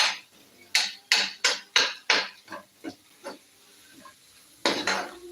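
Egg roast masala being stirred in a pan, with a run of distinct utensil scrapes and clanks in a quick uneven rhythm that pause briefly before a final burst, close and fairly loud with no talking.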